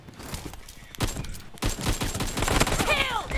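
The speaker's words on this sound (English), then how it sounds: "Single shot, AKM" A single AKM rifle shot in a video game rings out at close range, followed by further loud gunfire and scattered game noise.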